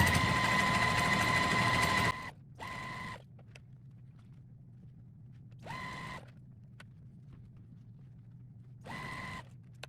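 Sewing machine joining a quilt four-patch: a long steady whirring run, then several short bursts of stitching separated by quiet pauses, close and clear.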